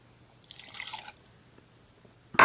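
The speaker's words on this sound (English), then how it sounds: "So I'm gonna pour a shot and then" A shot of gin is poured into a glass, giving a short, close liquid splash and trickle, then a pause and a sharp clink or splash at the end.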